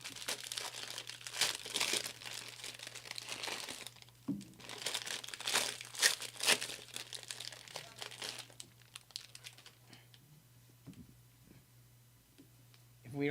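Crinkling foil wrapper of a baseball card pack being torn open and handled at close range, in bursts of crackling rustle with small clicks, fading quieter toward the end.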